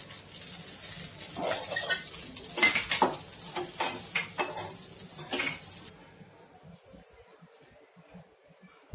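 Roasted fenugreek laddoo mixture is scraped out of a kadhai onto a plate with repeated metal clinks and scrapes for several seconds, then everything drops to near silence.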